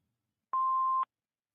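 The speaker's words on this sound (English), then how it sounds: "Please leave your name and phone number after the beep" An answering machine gives one steady electronic beep of about half a second. It is clean and fairly quiet, with silence before and after.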